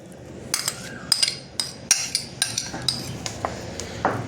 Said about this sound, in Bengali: চামচ দিয়ে এটা আমি হালকা হাতে মেখে নেব